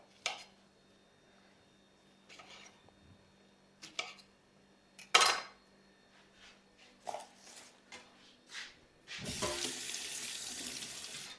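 A few scattered clinks and knocks, then a faucet gushes loudly into a metal rice pot set up for steaming, strong and continuous.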